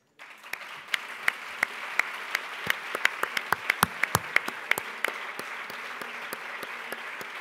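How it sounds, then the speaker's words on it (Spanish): A crowd at a women's awards gala applauds for the brave women honoured there, a dense steady clapping that starts abruptly and holds, with a few sharper individual claps standing out near the front. "demanar un fort aplaudiment per les dones valentes"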